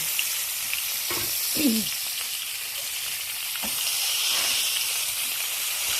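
Sour fermented fish frying in hot oil, a broad steady hissing sizzle with a few sharp pops of oil spattering, close by and continuous.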